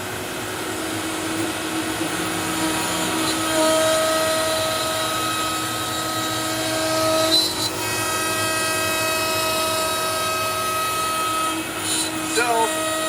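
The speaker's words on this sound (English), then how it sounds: "The dust line goes back to a dust deputy and into a shop vac, and now it's really loud." A CNC router cutting with its dust line running through a dust deputy into a shop vac: a loud, steady whine and roar with sustained tonal hums and brief clattering spikes, constant throughout at close range.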